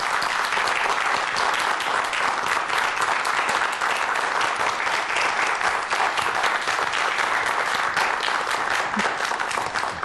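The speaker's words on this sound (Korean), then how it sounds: "박수 부탁드립니다" A studio audience applauds steadily to welcome a doctor onto a science lecture stage, a dense, even wash of clapping that holds at full strength throughout with no talk over it.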